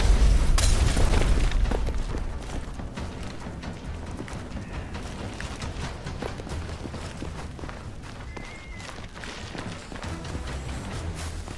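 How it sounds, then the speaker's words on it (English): Stun grenade going off in heavily modded Fallout 4 set in London, a loud deep boom at the start that fades into a rumbling, noisy game soundscape with steps and clatter, no talk. "Stun grenade."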